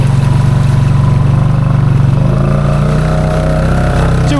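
Honda Foreman ATV on 32-inch Aztex tires rumbles into a mud hole in second gear, its loud, close engine holding a steady low drone that shifts pitch partway through as the load changes.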